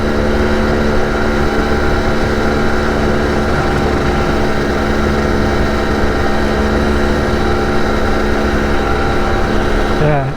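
2021 Husqvarna TE 300i two-stroke dirt bike engine running steadily and loudly, a continuous buzzing drone with a loud fan, unbroken for the whole stretch and cutting out at the very end.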